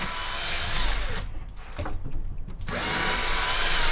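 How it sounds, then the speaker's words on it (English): A power drill drilling into a wall whines at high speed, cuts out briefly in the middle, then spins up again, close and loud. "I'm going to drill a couple more."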